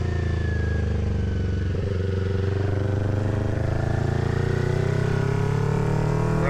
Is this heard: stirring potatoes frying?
no